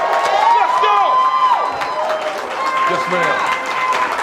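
An audience at the morning grand-opening celebration of Developing K.I.D.S. "The Village" claps and cheers in a dense, steady roar, with a voice shouting excitedly over the applause throughout.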